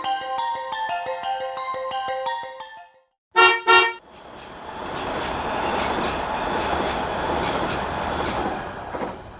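A subway train in a tunnel rumbles and rattles with a steady roar after a melodic chime and two short, loud horn blasts.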